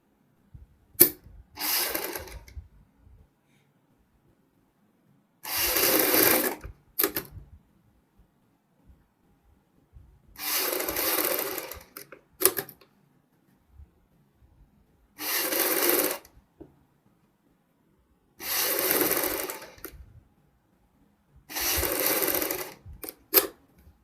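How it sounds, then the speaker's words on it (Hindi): A sewing machine stitches piping along the front neck of a kurti, running in six or so short, loud bursts separated by quiet pauses, with faint handling clicks between runs. "यहाँ पे दोस्तों हम इसकी पाइपिंग के साथ साथ सिलाई लगाएंगे"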